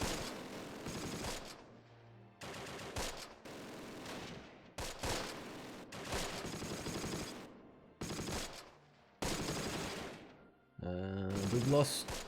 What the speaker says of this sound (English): Okay, the mortar's doing some damage.